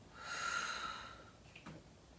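A gentle mouth exhale during a stretch-and-relax session lasts about a second, close and hushed, followed by a faint brief rustle.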